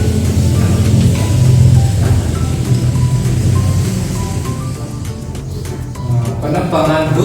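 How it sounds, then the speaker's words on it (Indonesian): Steady rain falls in a dense, loud, continuous hiss with a low rumble underneath, holding constant for several seconds with no voices. "Ternyata terjadi hujan."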